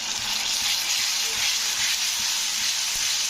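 Ginger garlic paste with turmeric powder sizzling in a frying pan while cooking a jackfruit curry, a steady close hiss of frying with faint stirring scrapes, no speech.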